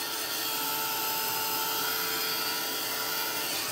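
A heat gun blows steadily while heating gel on a mixed media canvas, giving a constant high whirring hiss that holds at an even level throughout, close by, with no talking.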